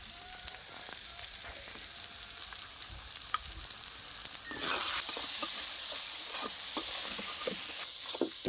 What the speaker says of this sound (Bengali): ভালো করে কষিয়ে নেব যতক্ষণ পর্যন্ত মশলা থেকে একটা তেল না ছাড়ে